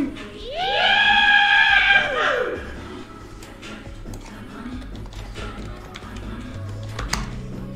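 Riders scream on a roller coaster in the Roblox video game, a loud rising and falling shriek for about two seconds, followed by quieter background clatter and chatter.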